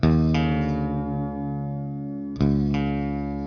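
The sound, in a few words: electric guitar being tuned down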